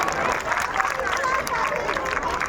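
An audience applauds at a school event where an LKG class of young children is about to perform. The clapping is steady and fills the whole stretch, with crowd noise and chatter mixed in.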